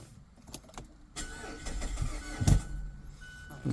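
A 2014–2017 Mazda 6 with a freshly replaced 2.5L engine cranks over with a whirring starter for a couple of seconds, catches with a thump, and settles into a low idle, heard close up without speech.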